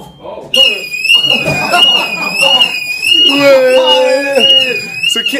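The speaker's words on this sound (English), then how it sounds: "So Kit just set the alarm on." An indoor fire alarm goes off with a shrill, continuous high-pitched electronic tone that wavers slightly and stays loud and close throughout, while several people talk and shout over it.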